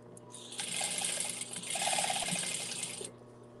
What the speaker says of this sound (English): Stitch that real quick.